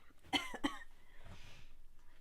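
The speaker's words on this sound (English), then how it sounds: "I am still coughing, but I am fine." Two short, sharp coughs close to the microphone, followed by a soft breath and faint background sounds.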